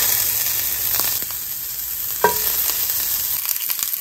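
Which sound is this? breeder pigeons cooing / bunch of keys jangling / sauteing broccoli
sauteing broccoli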